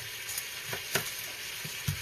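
Chicken pieces sizzle as they roast in a pot for homemade chicken noodle soup, a steady loud frying hiss with a few sharper pops and stirring clatters.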